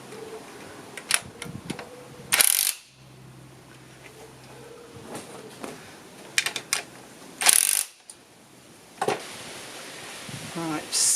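A socket ratchet tightens bolts on a Mazda RX8 gearbox during a reverse gear repair, giving short bursts of close mechanical clicking with pauses between them and a few louder clanks, alongside faint handling noise.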